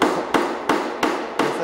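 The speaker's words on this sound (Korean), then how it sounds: "해서 망치로 두들겨 주세요." A hammer taps a handmade craft object in a workshop, four sharp evenly spaced strikes ringing close and loud with short decays.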